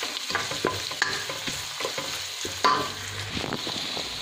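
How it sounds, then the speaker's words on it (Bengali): Whole spices and two bay leaves sizzle in hot oil alongside browning onion, garlic and green chillies, with a steady frying hiss broken by repeated scraping and stirring clatters of a spatula in the pan. "তো এগুলো সহকারে ভেজে নিচ্ছি এবং আরও অ্যাড করছি 2টা তেজপাতা। এই মশলাগুলোকে আমি কিছুক্ষণ ভেজে নেব।"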